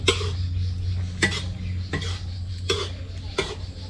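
A spoon stirs a northern Thai curry with shrimp and Thai coriander leaves in a metal pot, giving several sharp scraping clanks at irregular intervals over a steady low hum, close up and with no talking.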